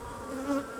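Honey bees buzz at an open beehive, a close, steady drone that holds a constant pitch and swells slightly at the very end.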